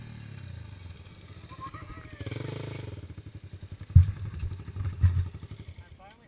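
A trail motorcycle riding through a hay field, its engine putting along at a distance under people talking, with a couple of louder thumps and clatter near the end.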